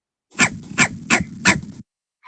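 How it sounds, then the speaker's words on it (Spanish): A recorded dog gives four sharp, evenly spaced barks, loud and close, followed by silence and the start of another bark at the very end. "es muy fácil distinguir cuál es el perro pequeño y el perro grande"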